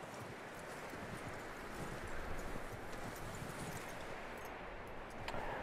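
Continuous clip-clop of horse hooves in the video game Red Dead Redemption 2 at a steady trotting pace, dense and even throughout, with no voices.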